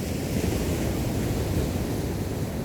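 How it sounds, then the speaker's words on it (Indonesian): Ocean waves roll onto a beach, a steady broadband roar of surf that stays close and loud throughout, with no voices. "mendengarkan suara ombak yang begitu jelas"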